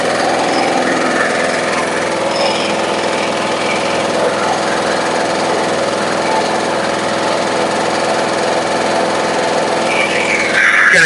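A Briggs & Stratton lawn mower engine over-revving, a loud, steady high-pitched drone held close with no change in pace and no voices.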